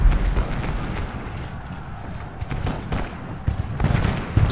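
Massed artillery in Ultimate General: Gettysburg fires as a dense, continuous rumble of booms and crackling blasts, loud and sustained with no voices over it.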